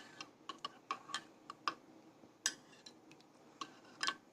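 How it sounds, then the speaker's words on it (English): A spoon clinks against the container while stirring a honey and yeast mixture for mead, giving a string of light, quick taps that come close and faint with uneven spacing. "So you just get the spoon and stir well in there."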